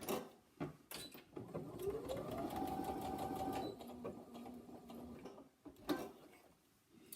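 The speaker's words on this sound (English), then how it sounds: "you're going to take and sew that bottom seam first. So just put a pin in and machine." Sewing machine stitching the bottom seam of a fabric pot: a close, steady mechanical whir rising in pitch as it runs for a couple of seconds, with ticks and handling noises around it.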